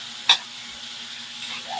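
Meat stir-fried with a splash of fish sauce in a home kitchen pan, a quiet steady sizzle with one sharp clink of a utensil near the start, with no voices.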